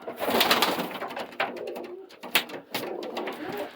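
Pigeons coo close by in soft, throaty bursts, several overlapping calls with brief pauses, alongside some rustling; among them a six-year-old male in moult.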